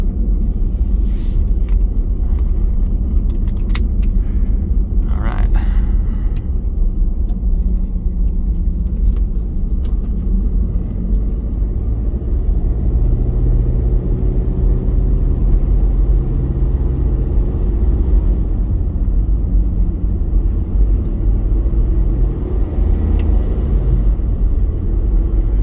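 A Toyota Previa Estima Lucida van with very low miles pulls uphill under load, engine rumbling loud and constant from inside the cabin, with a few faint clicks early on and no talking.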